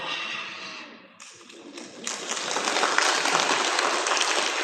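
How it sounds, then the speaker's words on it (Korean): Applause from a church congregation at an Easter service, starting faint and patchy, then swelling into steady, dense clapping that fills the room for the last few seconds. "박수 받으면 안 됩니다."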